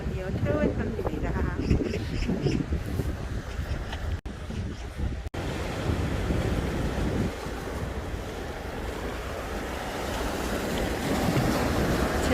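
Surf washing steadily onto Taeho beach on Jeju, with constant broadband roar and gusty wind buffeting the microphone; a short voice is heard faintly early on.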